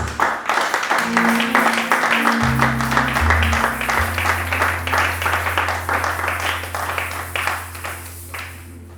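Church congregation applauding, a dense, sustained burst of clapping that stays loud and then gradually thins, with a low sustained organ or keyboard tone underneath.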